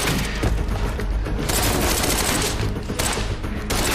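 Sustained gunfire and explosive booms fill a Quantum Break firefight, a loud unbroken barrage of automatic shots with heavy blasts layered throughout.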